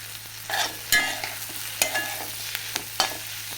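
Whole star anise and cinnamon sizzling in a pan as they are stirred for paneer butter masala, with a close, continuous fry and several sharp utensil scrapes and taps throughout.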